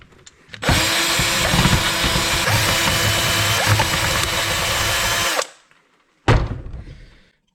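A power drill backs out stainless steel screws from a car amplifier casing, one long steady whir of about five seconds, a short pause, then a second brief burst that winds down, close and loud.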